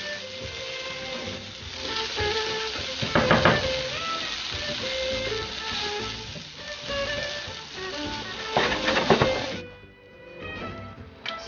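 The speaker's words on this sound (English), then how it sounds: "I'm going to brown my ground turkey now" Ground turkey browning in a pan for a cheesy taco tater tot casserole, a steady close sizzle and crackle of frying meat with occasional louder bursts of scraping and stirring as it is broken up.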